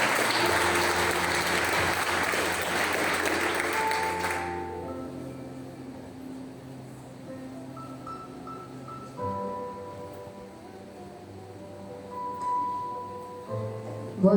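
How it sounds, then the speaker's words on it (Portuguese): A church congregation at a Baptist evening service applauds in a short burst that fades after a few seconds, leaving quieter sustained tones and soft room sounds. "Você pode mais uma vez aplaudir o Senhor?"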